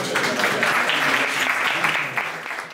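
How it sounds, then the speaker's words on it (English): A lecture audience greets an honored guest speaker with big applause, a steady, even wash of many hands clapping at once that holds at a fairly loud level throughout. "Big applause."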